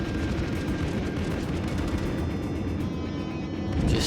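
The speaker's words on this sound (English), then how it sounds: "Fire on the enemy warship." Warship guns fire in World of Warships, a dense rumbling barrage of booming shots layered over continuous low naval battle noise, heavy and unbroken throughout.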